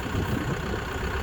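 A farm tractor engine runs with a steady, low rumbling drone, moderately close and continuous without speech.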